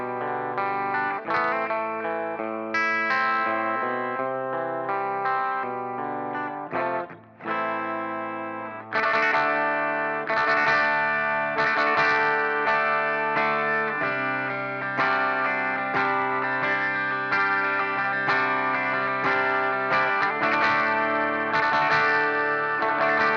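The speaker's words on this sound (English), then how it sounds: "blending the Plexi 50 watt 6550 with our piezo-laden stream up an octave" Electric guitar playing a part through a Fractal FM3/FM9/Axe-FX III preset, a clean Plexi 50-watt 6550 amp tone blended with a piezo pickup signal shifted up an octave; sustained chords and arpeggios, steady and loud with chorus-like shimmer, one brief dip.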